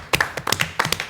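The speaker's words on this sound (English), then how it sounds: "that deserves a round of applause" Brief round of applause at a college board of trustees meeting, a handful of people clapping in a quick, uneven patter, close and fairly loud, with no talk during it.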